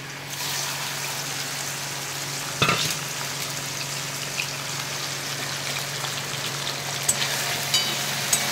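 Fish frying in hot oil in a pan for a fish biryani, giving a steady close sizzle with a few sharper crackles and pops; no one talks.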